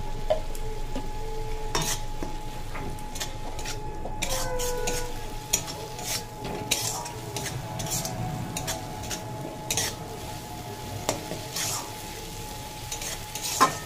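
Chili and cumin powder masala frying and being stirred in a pan while cooking a Bengali katla fish curry with pointed gourd, a steady soft sizzle broken by scattered sharp clinks of a spoon against the pan, no voice.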